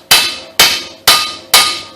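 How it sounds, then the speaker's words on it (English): Hammer striking a manual impact driver on rusted brake bolts of a 2003-2009 Kia Sorento, four loud, sharp metallic whacks at an even rhythm, each ringing briefly, alone. "You put counterclockwise force on it, you whack it with a hammer, and when it smashes down on it, it turns it counterclockwise"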